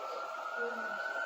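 Emergency vehicle siren near a hospital, a steady wailing tone heard at a distance and sustained without a break.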